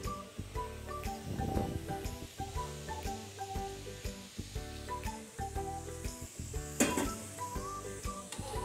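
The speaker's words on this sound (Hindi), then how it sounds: "आप दूध डाल के तो चम्मच को चलाते रहना ताकि ये जो गाजरें हैं ये नीचे ना लगें, जले ना" Carrots and about two kilos of milk are stirred with a spoon for gajar halwa, giving a steady sizzle and bubbling with repeated stirring strokes over background music.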